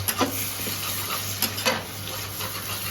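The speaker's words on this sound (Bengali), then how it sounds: "টমেটো আর লঙ্কাটা ভালো করে আবার ফ্রাই করে নেওয়া হচ্ছে।" Tomatoes and green chillies frying with onions for chicken curry, a close steady sizzle broken by a few spoon-stirring scrapes against the pan over a low hum.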